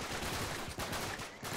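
Dense gunfire from many enemies fills a Uncharted 3 firefight, rapid overlapping shots and bursts forming a loud continuous barrage with no talk.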